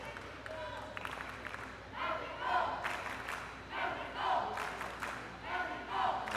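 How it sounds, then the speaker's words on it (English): A Mexican crowd at an under-17 FIBA Centrobasket youth basketball game cheers and chants in rising waves, fairly distant and muffled, rising and falling every second or so. "the Mexican crowd is into the game, trying to get their team back into this one"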